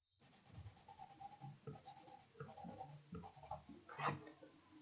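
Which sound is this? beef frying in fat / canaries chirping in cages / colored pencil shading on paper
colored pencil shading on paper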